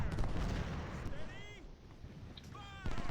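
Sniper and rifle fire in Ultimate General: Civil War at the Battle of Malvern Hill, a steady rumble of distant musketry and booming shots with a voice talking over it.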